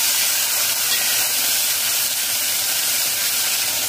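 Water poured into a hot pan of fried spices and curry leaves, a loud, close, continuous steaming hiss that holds evenly throughout with no voices.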